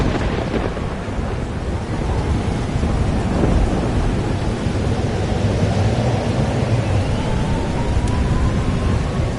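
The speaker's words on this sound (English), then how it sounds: "It's here too. But there wasn't a storm the day Safi died" A thunderstorm in the video game Life is Strange: Double Exposure brings steady heavy rain and a dense wash of storm noise with low rumbling thunder, continuous and loud throughout with no speech.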